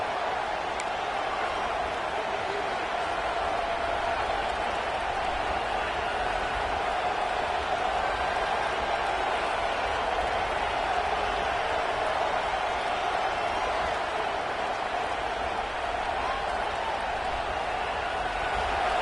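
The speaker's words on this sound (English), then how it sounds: "Neyland Stadium alive, a cauldron of orange noise on third down." A packed home crowd at Neyland Stadium roaring on third down during a college football game, a steady, dense wall of noise sustained throughout.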